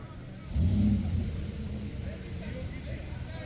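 A car engine surges with a short, loud low rumble while climbing a rough off-road mountain track, then settles into a steady idle-like drone beneath nearby voices.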